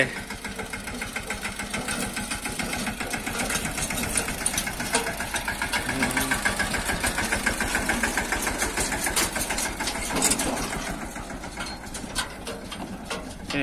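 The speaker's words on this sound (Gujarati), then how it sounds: "ટ્રેક્ટર આવે છે હવે મિની ટ્રેક્ટર આવે" A mini tractor engine runs at a farm, giving a loud, steady, close chugging with a rapid knocking pulse that holds for the whole stretch without a break.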